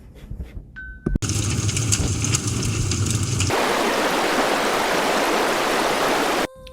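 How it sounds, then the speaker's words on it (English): Running water flows as a loud, continuous rushing stream, entering after a brief mechanical clatter and holding steady and close until it stops suddenly. "or running water."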